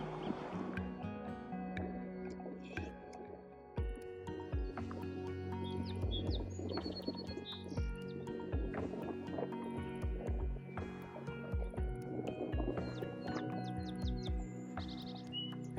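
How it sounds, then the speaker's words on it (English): A song sparrow sings beside a small pond with ducks and a beaver lodge along a rail trail in Medicine Bow, giving repeated bright chirps and trills over a busy background of dripping water and other birdsong. "There's a song sparrow singing."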